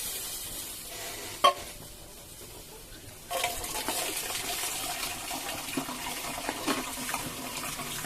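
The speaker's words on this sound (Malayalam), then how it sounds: "കുടംപുളിയും വെള്ളവും കൂടെ ഒഴിക്കുകയാണ്." Kudampuli and water are poured into a sizzling pan with tomato, a sharp clink followed by a rushing hiss, and then continuous bubbling and stirring scrapes, close up with no voices.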